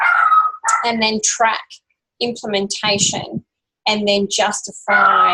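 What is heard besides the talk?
dog barking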